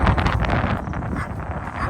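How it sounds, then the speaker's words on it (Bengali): Strong wind gusts across an open hillside, a loud, continuous low roar buffeting the microphone for a couple of seconds with no other sounds standing out. "হাওয়া দিচ্ছে তো প্রচণ্ড"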